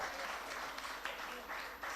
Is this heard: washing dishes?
no